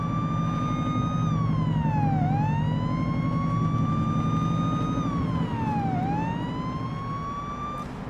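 A wailing police car siren in the video game Police Simulator cycles up and down steadily over a constant engine hum, loud and close, with no talking.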